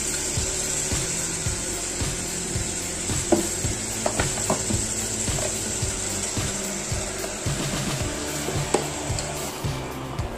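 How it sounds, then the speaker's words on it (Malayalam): Masala-marinated chicken is sautéed in a pressure cooker for biryani: continuous sizzling beneath repeated rhythmic scraping stirs of a spoon against the pot, close and steady. "മസാല വേച്ച് വെച്ചേക്കുന്ന ചിക്കനെ കൊണ്ട് ചേർത്ത്"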